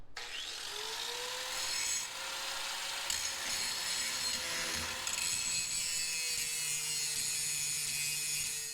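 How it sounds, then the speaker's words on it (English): Metal grinding on parts for a disc brake upgrade on a 1967 Mustang: a steady, fairly quiet abrasive rasp with a whining tone that wavers in pitch, continuing without a break. "I was grinding on that for like 2 hours."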